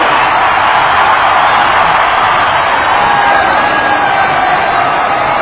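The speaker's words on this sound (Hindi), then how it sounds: "जोरदार तालियों से स्वागत कीजिए माननीय प्रधानमंत्री महोदय का। अपने प्रणाम तालियों के माध्यम से मंच तक पहुंचाइए।" A large crowd at an airport foundation-stone event with Prime Minister Modi claps and cheers in a steady, dense roar of applause that holds at full loudness throughout.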